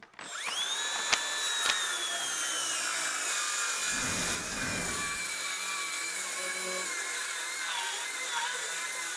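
Makita brushless cordless circular saw with a fresh battery ripping through 2x lumber, a loud sustained high whine that spins up quickly, then cuts steadily with a brief dip in pitch mid-cut, no talking.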